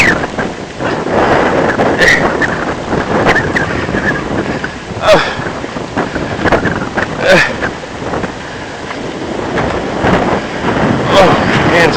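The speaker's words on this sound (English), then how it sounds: "it's windy." Strong wind in a snow storm buffets the microphone outdoors in the cold, a loud continuous roar with gusty surges, and a voice speaks briefly over it.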